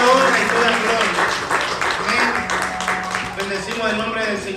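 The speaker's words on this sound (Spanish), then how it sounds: "Todos los aplausos son para Dios." Applause fills a church service, a dense spread of clapping that carries on across the whole moment, with voices and a sung or spoken line rising over it.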